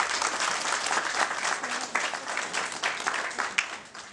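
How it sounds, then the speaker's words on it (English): Sustained applause from a crowd at an event launching the Zimbabwe International Trade Fair, welcoming the fair's general manager: dense, even clapping throughout, fairly loud and close, with no voices over it. "A huge round of applause for this lady."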